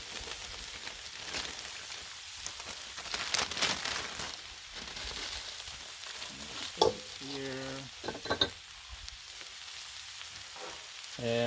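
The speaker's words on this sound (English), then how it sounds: "Let's try shredded green cabbage. And we're going to dump all this on here." Shredded green cabbage sizzling on a Blackstone griddle, a crackling hiss that swells and fades with bursts of spatula scraping and metallic clinks, moderately close and with no talking.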